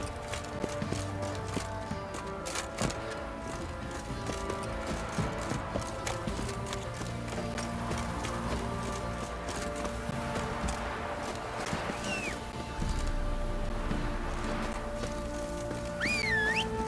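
Horse hooves clip-clop steadily over a busy soundscape from the video game The Witcher 3: Wild Hunt, with occasional whinnies and faint background music throughout.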